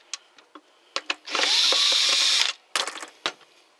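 Cordless power drill backing screws out of a Kobalt 40V hedge trimmer, one sustained whine of the motor between sharp clicks and handling knocks, close and fairly loud.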